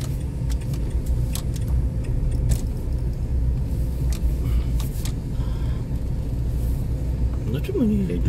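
A car's engine rumbles steadily from inside the vehicle as it is moved to a parking spot, with a brief jangle of keys and faint voices in the background.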